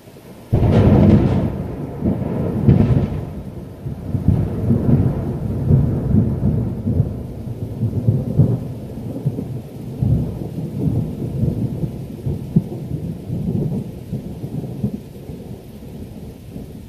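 Heavy rain pours down steadily while thunder rumbles low and loud, with a big crack near the start and rolling booms throughout, no voices.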